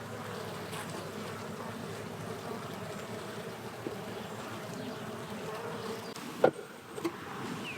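Honey bees drone steadily around an open hive during a colony inspection, a continuous low buzzing swarm close by with a brief clunk near the end.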